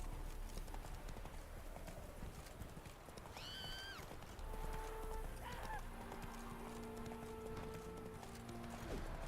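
Horse hooves clip-clop steadily through a stretch of The Witcher 3 gameplay, with a whinny partway through and background game sounds. Tonal music-like lines sit underneath the hoofbeats.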